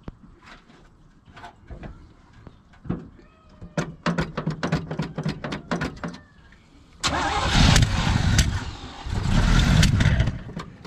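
A 1974 Chevy truck engine cranking in a rapid series of starter bursts, then catching and revving loudly under the gas pedal in two sustained surges, close and strong.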